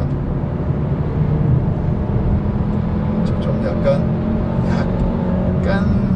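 A Chevrolet Malibu 1.5 turbo car engine drones steadily with a low, rising hum as revs climb, while someone talks over it, close by and fairly loud.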